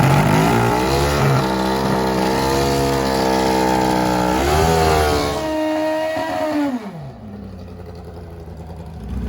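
A 400+ horsepower V-twin pro stock drag racing motorcycle screams through rising engine harmonics as it launches and pulls hard down the racetrack, loud and close, then the pitch sweeps and the roar drops away into fading noise near the end.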